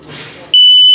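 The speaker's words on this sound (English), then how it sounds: "So when it beats slowly, the same tone but slowly, is telling you your battery's low." An RV LP and carbon monoxide detector sounds a loud, sustained electronic beep tone that cuts in abruptly halfway through, replacing a low, muffled background rumble.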